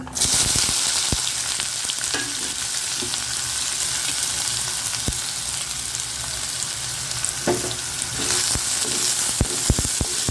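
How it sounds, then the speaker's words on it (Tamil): Onions sautéing in a pan for a spicy paneer masala gravy, a loud continuous close sizzle broken by occasional spatula scrapes and taps. "வெங்காயம் கொஞ்சம் வதங்கணும்"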